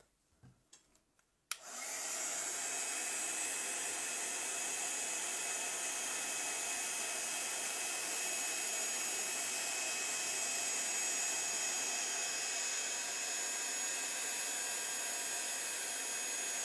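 Heat tool switching on with a click after a few faint knocks, then a steady, loud blowing whoosh that runs unbroken while melting gold metallic powder, with no speech.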